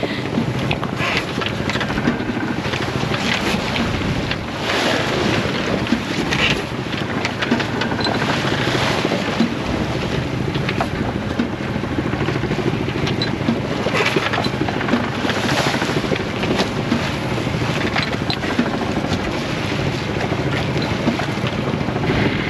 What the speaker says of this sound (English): The squall is far from over